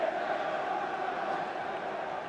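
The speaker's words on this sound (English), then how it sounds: "And just listen to the crowd here at Highbury." A roaring football crowd at Highbury stadium during an Arsenal match, a steady, sustained crowd roar with no break.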